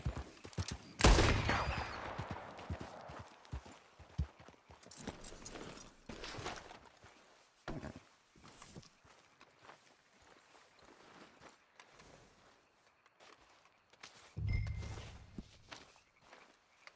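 A horse walks in a Red Dead Redemption 2 game scene with soft, irregular hoof thuds that are mostly faint. A few louder impacts and rustles stand out, and no one talks.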